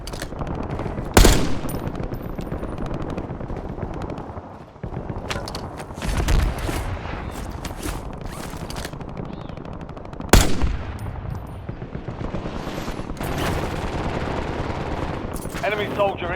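Loud, close gunfire erupts in the video game Call of Duty Warzone, with bursts of automatic fire and sharp shots over a continuous battlefield din, while in-game radio voices call out.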